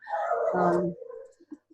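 A single dog gives a drawn-out bark or whine up close, then trails off into a few faint short yips, heard alone without talk.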